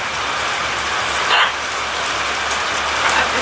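Rain pouring steadily outdoors on a yard where macaw parrots sit, a dense, loud hiss of drops on surfaces with a few brief bumps, and no talking.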